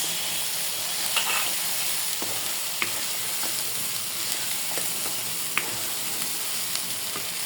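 Prawns fry in a cooked-down spiced masala for a hot Bengali prawn dish, a steady close sizzle and hiss with occasional light clicks from stirring.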